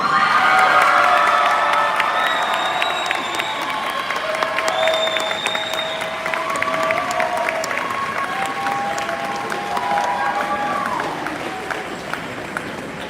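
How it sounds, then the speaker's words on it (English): A crowd applauds steadily, with cheers and high whoops rising over the clapping before it slowly tapers off. "please, a round of applause for Dominic Whitaker."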